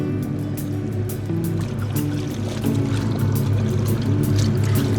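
Water sloshes and churns while clothes are rinsed in a vintage Maytag wringer washer, a steady mechanical hum running underneath the close, rhythmic splashing throughout.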